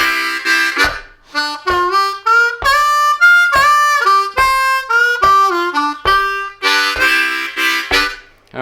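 A blues harmonica plays a lively lick over a chugging chordal vamp pattern, loud and close, with quick bent draw notes, triplets and rhythmic chord chops throughout, no talking.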